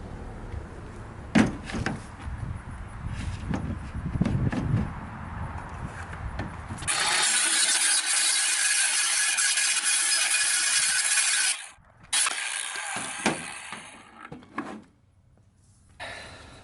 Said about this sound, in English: We're going to use our little trim saw to do that.